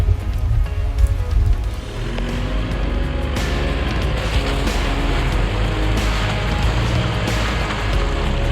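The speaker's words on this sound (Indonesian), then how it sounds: "udah turun hujan teman-teman, makin seru nih" Steady rain drums on an Isuzu MU-X 4x4 during an off-road drive, a dense continuous patter over a low engine rumble, loud and close throughout with no talk.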